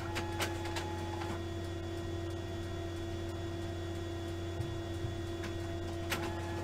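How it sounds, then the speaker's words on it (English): A card printer runs with a steady electrical hum and mechanical whir, and faint occasional clicks and ticks sit over the constant drone. "You gotta be smarter than the printer, Bergie."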